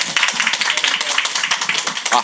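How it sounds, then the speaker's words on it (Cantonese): Dense crowd applause at a computer industry festival event in Hong Kong, many hands clapping in a steady continuous patter, fairly loud and close throughout. "係喺呢個時候就俾熱烈嘅掌聲"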